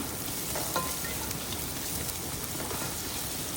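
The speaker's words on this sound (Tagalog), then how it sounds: "igisa na natin ang sibuyas" Onions sautéing in a pan, a steady dense sizzle like rain on a surface with a faint stir or two, close and alone without talk.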